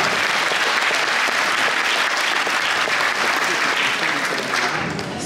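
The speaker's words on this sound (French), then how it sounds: "applaudissez-vous déjà." An audience at a film and television festival in Cap d'Agde claps steadily and loudly for several seconds, the applause thinning slightly at the end.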